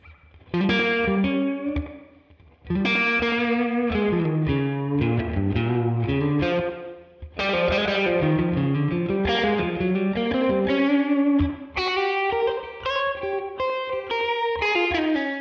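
A distorted electric guitar through a Neural DSP Tone King Imperial Mark II amp plugin plays a melodic line with chords and sustained notes, processed with effects and some chorus, alone and up close, with brief pauses between phrases.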